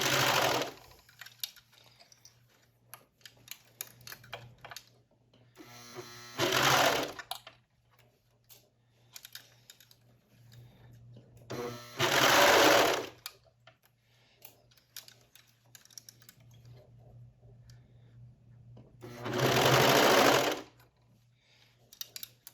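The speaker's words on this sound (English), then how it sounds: "just serge this through, letting your elastic sit flat to the surface of the fabric" Serger stitching an elastic hem flat onto fabric, running in three loud bursts of steady whirring separated by quieter handling noise and a low hum.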